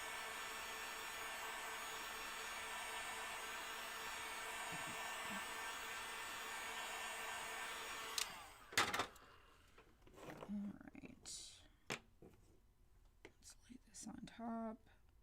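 A hair dryer blows steadily for about eight seconds on a DIY craft kit, then cuts off, followed by handling clicks, rustling and soft talk.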